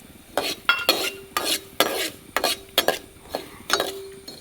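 Coriander seeds and cumin dry-roasting in a pan, stirred with a spoon that scrapes and clinks in a steady rhythm of about ten strokes, close by with no voices.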